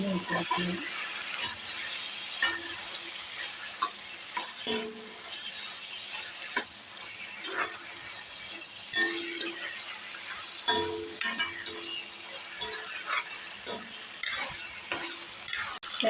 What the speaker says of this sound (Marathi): शिजलेला पास्ता यामध्ये टाकायचा आहे